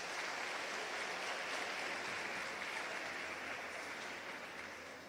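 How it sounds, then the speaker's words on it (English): An audience at a South African youth event gives distinguished guests a steady round of applause, heard faintly and at a distance, slowly fading toward the end. "May we please give our distinguished guests a round of applause."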